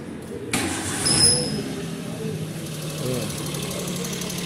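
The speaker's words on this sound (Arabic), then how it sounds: "الموتور يدور مليح كل شيء،" A Suzuki Alto engine runs after an overhaul, a steady close idle with a slight rise in revs early on, then an even mechanical hum throughout.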